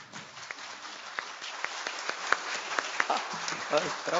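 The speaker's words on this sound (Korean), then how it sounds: "박수 부대 동원한 거 아닌지 모르겠네" Scattered, fairly faint applause from an audience at a roundtable on Jeju strategic partnership, with sparse individual claps standing out over a low murmur of voices.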